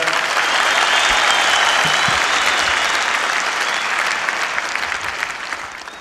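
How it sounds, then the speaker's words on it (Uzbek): A large audience applauds the elders with loud, sustained, dense clapping that gradually tapers off toward the end. "Keksalarimizga, qariyalarimizga bitta chiroyli qarsak bo'lsin mana shu yerda."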